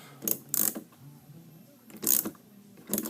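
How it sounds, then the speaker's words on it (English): A socket ratchet snugs down a bolt on a Craftsman 8 hp snowblower carburetor, giving a few quiet, close clicking bursts separated by short pauses. "socket and ratchet, and then we'll snug this up"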